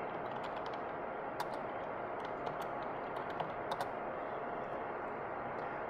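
Login details being typed on a computer keyboard at a walk-up Bruker NMR system. Soft, scattered key clicks come faintly through steady broadband room noise, with no talking.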